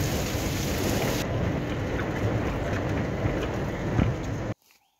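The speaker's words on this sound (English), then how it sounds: "I came to check up on the Kabashu while it's raining so hectic" Heavy rain pours in a dense, constant roar, loud and close, then cuts off abruptly near the end.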